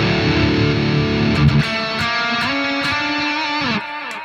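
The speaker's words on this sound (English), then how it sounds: "We have delay and reverb." A Nutcracker high-gain guitar amp rings out distorted, sustained chords carrying delay and reverb, with repeats and a lingering tail trailing each picked note, loud and close.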